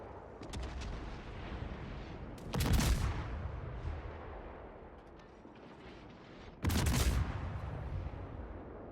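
Guns fire from a Russian destroyer, the Udaloi, in World of Warships: a steady rumble of distant gunfire broken by two loud, sharp salvos, the first near the third second and the second near the seventh.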